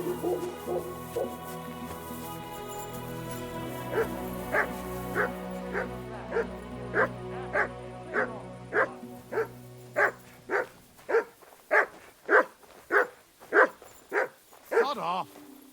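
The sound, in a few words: dog barking on command in video game Kingdom Come Deliverance II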